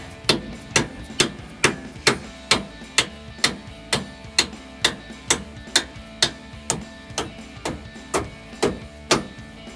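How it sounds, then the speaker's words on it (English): A rubber mallet taps a bolt into a rear lift shackle on a Ford F-150, about twenty evenly spaced, dull knocks in a steady rhythm, close and fairly loud. "I'll go ahead and tap on it with my rubber mallet."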